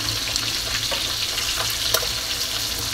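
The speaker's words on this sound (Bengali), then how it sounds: "এখন উল্টিয়ে দেওয়ার পরে অপর সাইডটাকেও ভেজে নিতে হবে" Koi fish frying in a pan, with a steady dense sizzle of hot oil throughout and a few brief louder spits and crackles.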